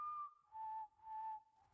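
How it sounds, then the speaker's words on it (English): Three clear whistled notes, the first slightly higher and the next two held steadier, each separated by brief pauses, soft and fairly close with no talking. "The whistling."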